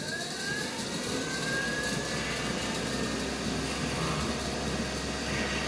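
Cotton candy machine switched on and running, a steady loud motor whir with a low hum and airy roar that holds evenly throughout, close and without talk.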